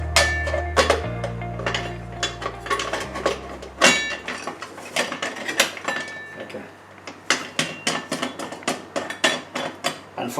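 Metal lid of a pressure cooker being fitted and locked shut in a home kitchen during soup making, a run of clanks, ratcheting clicks and scrapes up close, with someone speaking intermittently.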